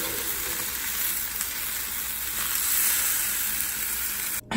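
An egg white frying in a pan gives a steady, close, dense sizzle that carries on without a break and cuts off abruptly at the end.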